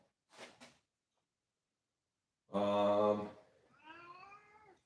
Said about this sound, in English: that's the garage cat.